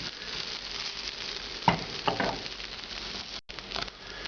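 Peppers roast in a hot pan for a Mexican red mole sauce, giving a steady close sizzle with a few sharper crackles and a brief dropout near the end.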